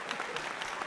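An audience at a stand-up comedy show claps in sustained, lively applause that stays fairly even and close for the whole moment, with a faint voice mixed in.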